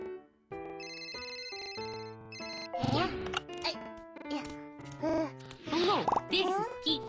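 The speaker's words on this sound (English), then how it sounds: "Oh, my phone's ringing." A bright electronic telephone ringtone plays a repeating melodic pattern in a BabyBus children's police game, followed by cartoonish game voices and chimes talking over background music.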